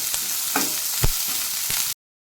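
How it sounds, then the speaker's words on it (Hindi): Onions frying in a pan until golden brown for a Kolkata-style potato and peanut masala curry, a steady close sizzle with a few soft stirring scrapes, no voices. "पियाज को आमे गोल्डन ब्राउन कलर होला पर्यंत छाड़ी देबा।"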